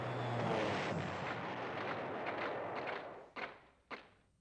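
Bombing in the PlayStation 1 war game Panzer General: a heavy rumbling blast that fades out, followed by two sharp thuds in quick succession.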